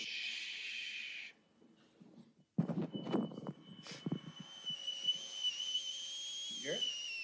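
A singing Tesla coil gives off a thin, high whistling tone at a lecture demonstration, heard faintly and steadily at a distance amid rustling audience noise and some voices.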